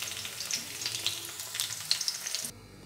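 Onions, cashews and chillies fry in hot oil, a close, crackling sizzle with sharp pops and stirring scrapes that cuts off abruptly near the end, leaving a low hum.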